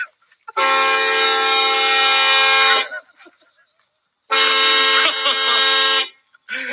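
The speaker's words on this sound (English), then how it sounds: "Go ahead, hit the horn. It's really loud." Two long, blaring horn blasts, loud and close, each lasting a couple of seconds with a brief gap between them and a short third burst at the end.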